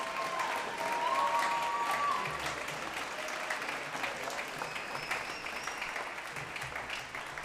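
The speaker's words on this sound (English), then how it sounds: "Let's give all of our recipients a big round of applause." Sustained applause from an audience at the Tallulah Falls School senior awards ceremony, steady dense clapping that carries on for several seconds, fairly distant with a room echo.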